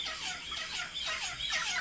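A dense flock of chickens squawks and clucks continuously inside a coop, many overlapping bird calls close by with no pauses.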